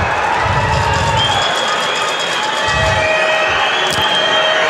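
Arena crowd at a world judo championship cheering and shouting in a sustained loud roar, with bursts of louder yelling rising above the steady din.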